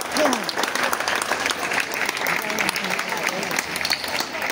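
Audience applause at a live comedy show, a steady dense wash of clapping sustained throughout with some voices mixed in.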